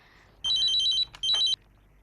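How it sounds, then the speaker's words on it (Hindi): A telephone rings in two quick electronic bursts with a brief gap between them. It is clear and close against a quiet room, with no talk over it. "फोन बज रहा है, फोन उठा।"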